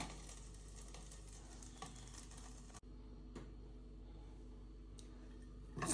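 Ginger, garlic and onion frying together in a pan give a quiet, steady sizzle with occasional light clicks and scrapes of stirring, fairly soft and without talk.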